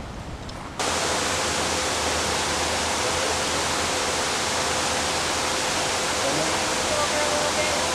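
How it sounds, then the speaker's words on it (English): Steady, dense roar of falling water from a waterfall in Hawaii, loud and continuous after a brief quieter start. "This is a waterfall."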